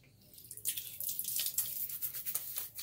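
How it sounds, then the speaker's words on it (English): Bloom water is splashed onto a face before a shave with a kamisori shavette, a run of close, wet splashes and drips of quick, uneven patting with no talk. "let me go ahead and put this bloom water on my face"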